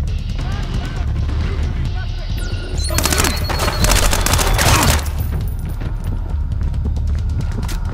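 Gunfire in the stealth shooter Splinter Cell: Blacklist, a loud burst of shots and crashing impacts in the middle of a busy game soundscape with voices around it.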